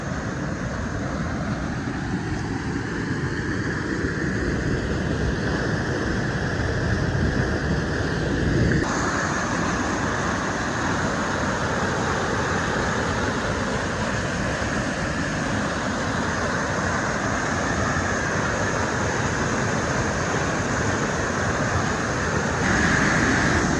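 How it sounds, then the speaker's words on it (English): A waterfall at a dam in Wales gushes in a loud, constant broadband roar with some wind buffeting the microphone, steady throughout and with no talking. "Hopefully you can hear me over the gushing water."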